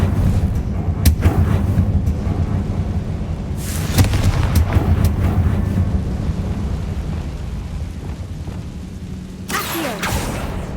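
Repeated Confringo fire-spell explosions in the video game Hogwarts Legacy, booming bursts over a rumbling low backdrop with brighter blasts near the start, middle and end.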